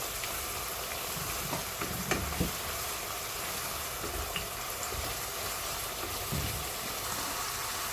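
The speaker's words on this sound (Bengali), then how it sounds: "ভালোভাবে নাড়াচাড়া করতে হবে যাতে ভালো করে পেঁয়াজটা কষানো হয়" Onions and turmeric fry in a pan for a boal fish bhuna, giving a steady soft hiss. Scattered light clicks and scrapes of stirring sit on top, with no talk.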